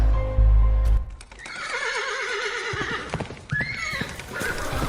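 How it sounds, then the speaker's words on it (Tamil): Horse neighing and hooves used as a sound effect during a children's church rally play: a loud thump opens, then a long wavering whinny followed by clip-clopping hooves, close and prominent. "நாகமான் தன் ரதங்களோடும் குதிரைகளோடும் எலிசாவின் வீட்டு வாசற்படியிலே நின்றான்."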